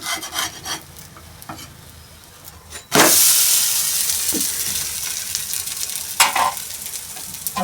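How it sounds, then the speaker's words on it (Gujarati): Dangelu batter cake being flipped in a hot pan on a gas stove, with a sudden loud burst of sizzling that holds steady and close, broken by a few light scrapes, following quieter faint crackling. "હવે આપણે એને ઉલટાઈશું."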